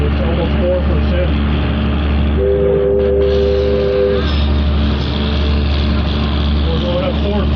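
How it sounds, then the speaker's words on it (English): A museum steam train on the Virginia and Truckee Railway works hard up a steep grade of almost four percent, a loud continuous rumble with a brief steady whistle-like tone mid-clip and a voice talking throughout. "Engine working a little bit coming out here."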